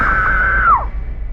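A girl screams in an animated horror story, a single loud, sustained high-pitched shriek lasting under a second and falling sharply at its end.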